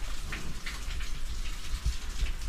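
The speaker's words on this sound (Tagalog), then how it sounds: "Dahil sa patuloy na pag-ulan" Steady rain falls outdoors in a continuous, even patter, with a few louder low thuds of drops hitting a surface and no talking.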